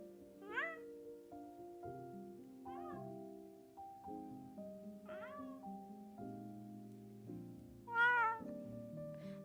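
A person imitates a cat with a series of high, drawn-out meows, several separate calls with the last one loudest, over a faint steady electronic hum.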